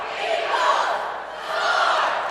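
Crowd cheering and yelling in a gym at a high school competitive cheerleading state final, a loud sustained roar that swells twice, heard from a distance.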